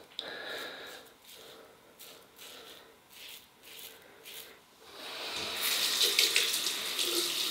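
Tap water rinses a Gillette Super Slim Twist safety razor, with light splashing and rubbing at first that swells into a loud, steady rush of running water near the end.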